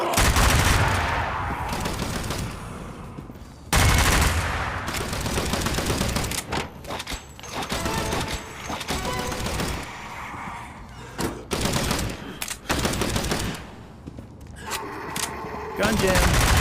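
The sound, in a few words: gunfire from Zombie Army video game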